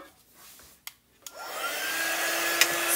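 A hair dryer starts up and runs steadily, drying freshly applied chalk paint; it blows loud and continuous after a few clicks and bumps.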